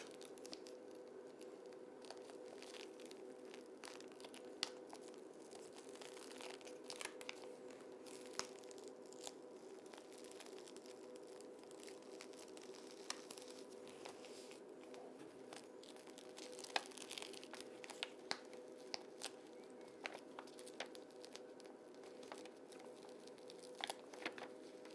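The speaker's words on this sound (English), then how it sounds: "I start to peel at the longest side of the design, and I'm constantly and smoothly rolling over" Transfer film being peeled slowly off a printed felt briefcase, a faint, steady crinkling and soft tearing with scattered small crackles, continuous throughout and close up.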